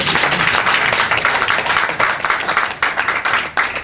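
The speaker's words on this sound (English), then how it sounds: "Can you give me a big round of applause?" Crowd of attendees clapping in a big round of applause at a community delegation's visit to a former Nigerian vice president, steady dense clapping close by with no talk.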